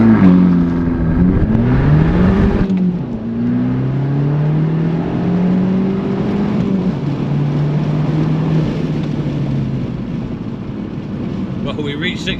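An Abarth 500 EsseEsse accelerates hard from a standstill in a 0 to 60 run, the engine note climbing through rising pitch sweeps with a gear change, then a sustained loud drone.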